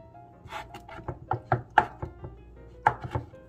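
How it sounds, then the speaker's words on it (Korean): A knife chops soaked rice cake slices on a cutting board in a kitchen, a string of sharp, irregular knocks close by, some quick and clustered, with faint background hum and no talk. "30분 정도 불린 떡을 잘게 썰어줄게요."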